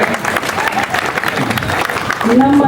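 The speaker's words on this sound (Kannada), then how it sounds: "ಎಲ್ಲರೂ ಚಪ್ಪಾಳೆ ಹೊಡ್ರಿ" Audience clapping at an award ceremony in Karnataka, a dense crowd applause running throughout with someone talking over it.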